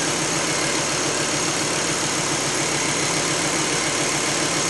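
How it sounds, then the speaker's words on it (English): A Volvo S70 2.4T engine idling up close, with a steady, rapid ticking from the fuel injectors running over the constant mechanical hum, amplified by aluminum. "actually helps amplify the sound of the injectors"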